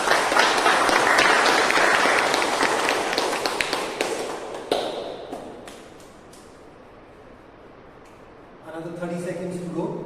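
Online meeting participants clap and tap in a dense, busy burst for several seconds, then the sound thins to a quiet lull before a voice resumes talking at the end.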